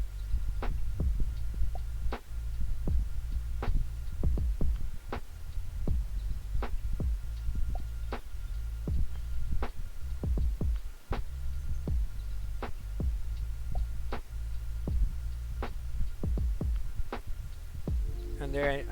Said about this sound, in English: And there you have a heart beating.